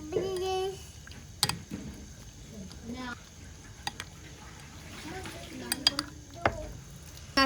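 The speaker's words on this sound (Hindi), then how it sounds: "अब इसको हम अच्छे से मिक्स कर लेंगे" Chicken pieces mixed with soy sauce and chili sauce for a thread chicken marinade, heard as soft wet stirring and occasional clinks of a spoon on a bowl, with someone talking over it.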